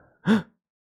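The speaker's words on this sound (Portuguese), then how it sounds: "A sua respiração é sonora." A single loud, close gasp, one short sharp breath that rises and stops quickly, then silence.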